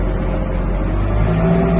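A Kubota M5 112 tractor engine with performance tuning runs loud and close in fifth gear, a steady diesel drone whose pitch rises as it accelerates toward the end.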